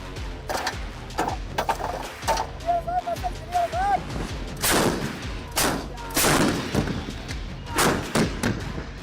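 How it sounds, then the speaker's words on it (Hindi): Indian Army artillery guns fire in a series of heavy booming thuds and cracks spread across several seconds, loud and close, with voices and other sounds mixed underneath. "आने वाले दिनों में तोपखाने में तकरीबन 5000 से ज्यादा आर्टिलरी गन शामिल होंगे।"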